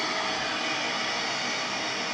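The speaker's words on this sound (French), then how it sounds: "Aspirateur." Steady, dense broadband whooshing hum of a vacuum cleaner running continuously at close range, with no change in pitch or level.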